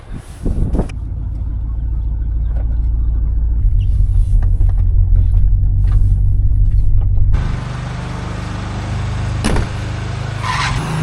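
A grain conveyor hooked up to a truck on a farm, loading into an 8,000-bushel bin, runs with a loud steady mechanical rumble and drone that shifts in tone partway through, with brief knocks over the top.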